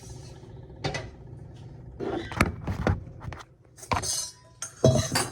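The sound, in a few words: spoon being picked up, clinking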